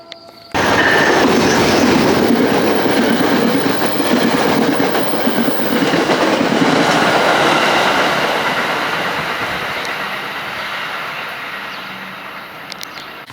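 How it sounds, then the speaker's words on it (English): A PATCO Speedline express train roars through Westmont station in New Jersey, a loud, sustained rumble with rail clatter that starts abruptly and slowly fades as it passes. "I hear the express train coming through right now."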